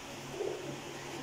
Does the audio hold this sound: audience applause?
no